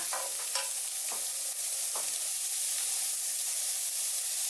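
Cooked shrimp being stir-fried in a pan for tom yum spring roll filling, a constant soft sizzle with a few spatula scrapes near the start, heard up close with no talking.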